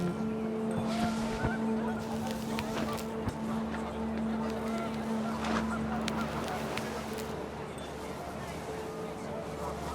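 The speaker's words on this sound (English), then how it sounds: "The wind picked up, and panicked geese appeared and quickly went." Panicked geese honk in the video game What Remains of Edith Finch as the wind picks up, with scattered honks over a rushing, noisy background and a voice speaking.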